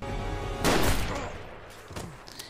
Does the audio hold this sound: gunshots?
yes